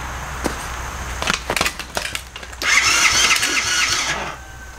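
A 50cc quad's small engine, after years of sitting unused, cranks with a few sputtering clicks and knocks, then catches and runs with a buzzy, high-pitched idle before fading slightly.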